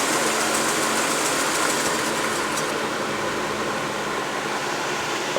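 Small engine with a spark plug cable being pulled off, running steadily with a close, continuous buzzing hum that slightly changes toward the end without fully cutting out.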